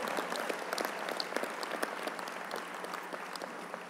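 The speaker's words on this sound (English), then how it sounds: "If you agree with it, clap your hands even now and let's apply the pressure." Audience hands clapping at a 100 Black Men conference speech, a steady dense wash of applause from a crowd filling the hall, moderately loud and continuous with no talking over it.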